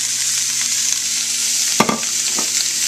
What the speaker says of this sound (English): You can kind of hear that sizzling.